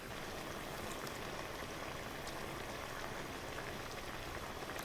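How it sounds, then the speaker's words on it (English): Tomato sauce for Italian chicken cacciatore simmers in a pot as a dense, continuous bubbling and crackling that fills the clip evenly, close and fairly loud, with no speech. "we complete by letting it simmer"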